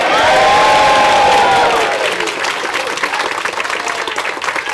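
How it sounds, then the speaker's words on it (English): An indoor audience cheers and applauds loudly all at once on cue, a dense roar of clapping and shouts that eases slightly after the first couple of seconds but keeps going. "So on 0, I want you all to cheer and applause as much as you can."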